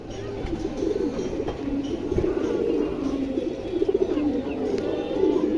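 Super Hurricane pigeons cooing in a loft, with soft, low, repeated coos layered through the clip. Someone talks over them throughout.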